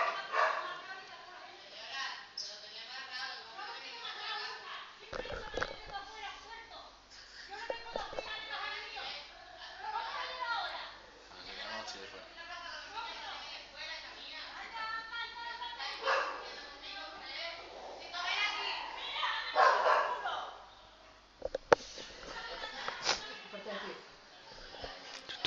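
Several dogs bark, yip and whimper at close range in bursts throughout, mixed with a person talking over them in a quiet room.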